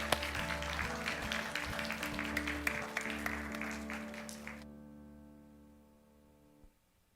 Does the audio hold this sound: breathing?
no